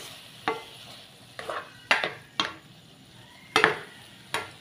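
Eggs are stirred in a frying pan, with several distinct scraping strokes of a utensil against the pan over a faint sizzle, no voices.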